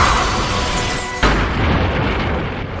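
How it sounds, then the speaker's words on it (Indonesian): A loud, sustained roaring blast that swells sharply midway, filling the space with heavy rumbling before cutting off abruptly. "Ledakan besar terjadi, menelan segalanya dalam debu tebal."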